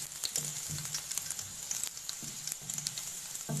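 Finely chopped garlic frying in oil in a pan gives a steady, close hiss of sizzling, with a few soft clinks and stirring knocks scattered through it.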